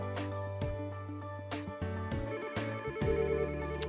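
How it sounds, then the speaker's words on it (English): A Yealink desk phone rings with its default ringtone, a repeating electronic melody of bright tonal pulses at a steady rhythm, heard alone at moderate volume. "we're just gonna test to hear what the current ringtone sounds like"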